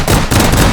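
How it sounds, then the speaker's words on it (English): Pistol gunfire in the virtual reality shooter game H3VR, a rapid burst of loud, close, crackling shots packed into under a second. "Now we can fire our pistol in peace."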